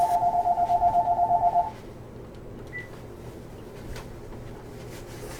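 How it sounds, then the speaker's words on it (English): A phone gives a quick series of pulsing electronic beeps as it is switched off. A faint short tone follows against a quiet room hum. "Let me turn that phone off."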